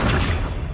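The Accio summoning spell in the video game Hogwarts Legacy goes off as a short, loud boom with a dense, rumbling body that lasts under a second.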